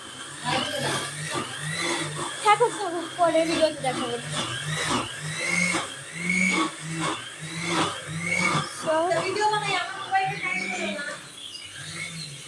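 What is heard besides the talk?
blender running in another room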